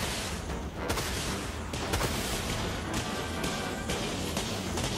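Gunfire in the naval combat video game Dreadnought, a dense barrage of cannon shots and booming impacts that continues steadily and loudly over a constant rumbling background.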